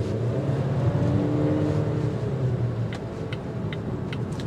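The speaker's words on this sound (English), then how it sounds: "plus push the gas up." A 2023 Volvo XC40 accelerates, its engine giving a steady low drone and road rumble heard from inside the cabin, moderately loud and continuous with no talking.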